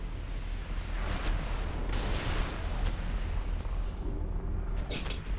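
Video game ship cannons fire under attack: heavy booming blasts and crackling gunfire roll on continuously, a dense, loud barrage of cannon-like explosions with no pauses.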